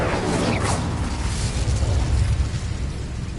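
In the video game Hogwarts Legacy, an Incendio fire spell is cast with a loud fiery whoosh and burst that rolls into a sustained rumbling roar.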